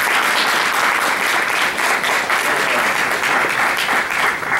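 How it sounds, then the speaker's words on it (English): An audience gives panelists a loud, sustained round of applause, a dense continuous clapping that stays steady for several seconds with no talk over it. "Let's give them a round of applause for"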